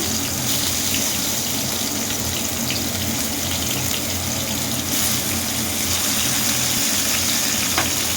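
Thin tomato slices hitting hot oil for a rohu fish curry give a steady, broadband sizzle with a watery hiss, loud and continuous from start to end with no talk.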